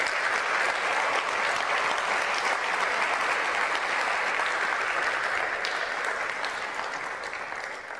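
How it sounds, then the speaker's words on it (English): An audience applauds the speakers at the end of a panel on defending nature and rights defenders, a steady, even wash of many hands clapping for the full length, easing off slightly at the close. "let us give a round of applause to all our speakers"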